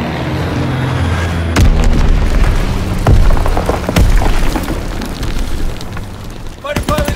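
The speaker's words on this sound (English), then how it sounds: "Enemy bomb incoming! Get to cover!" Bomb explosions in the Call of Duty: WWII video game, several heavy booming blasts with splintering debris over constant loud battle noise, while a voice calls out in-game alerts.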